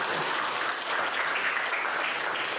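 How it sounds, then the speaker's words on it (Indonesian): Steady applause from a classroom of students clapping for a classmate, dense and even throughout, with no talk over it. "Boleh tepuk tangan untuk Naila Hasnah."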